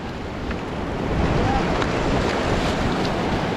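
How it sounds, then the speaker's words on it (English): Churning whitewater river rapids roar steadily during a rafting run on the Sangam stretch in Ladakh, a loud, continuous broadband rush of water and wind with no speech, growing slightly stronger after the first second. "now we are going in the fast rapid of the section."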